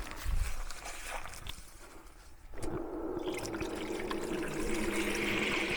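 Water runs from an outdoor spigot through a hose into a bucket, a steady splashing rush that starts abruptly after a short quieter stretch and continues evenly.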